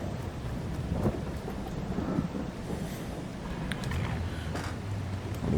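Rain and rolling thunder in Farming Simulator 22, a steady broadband wash of downpour with low rumbles and wind noise running throughout, fairly loud and continuous with no voices.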